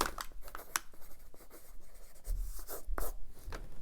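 Pen scratching across a sheet of paper in short strokes and scribbles, close and fairly quiet, with brief pauses between marks and no voices.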